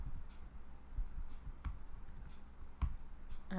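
Typing on a computer keyboard while writing Java code, soft scattered key clicks with a few sharper taps, close and fairly quiet.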